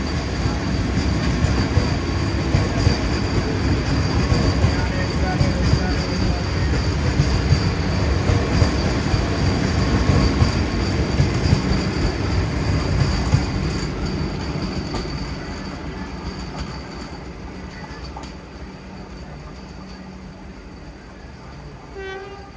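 A Vande Bharat express train passes with a steady rumble and rattle of wheels on track and a thin high squeal, loud at first and then slowly fading as it moves away.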